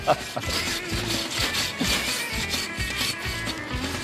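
Wood sawn by hand with steady back-and-forth strokes, a continuous rasping scrape close up and fairly loud, with a faint voice briefly in the background.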